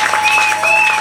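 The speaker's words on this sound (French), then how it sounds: "Acclamez très fort pour le Seigneur." Church congregation applauding, a short, loud burst of close clapping with a sustained tone ringing underneath.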